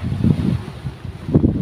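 Small sea waves and wind heard from a boat: low rumbling wash and gusty wind noise, with water surging louder near the start and end.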